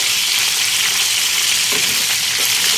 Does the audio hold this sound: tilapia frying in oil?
yes